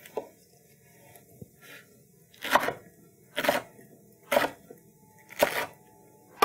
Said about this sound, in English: I'm going to slice up this pineapple into nice long slices that fit into my juicer.